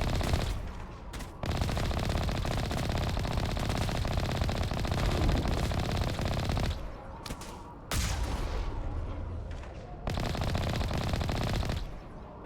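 Sustained machine-gun fire in the video game Mass Effect Legendary Edition, loud dense automatic bursts lasting several seconds each, broken by short pauses, with no talk over them.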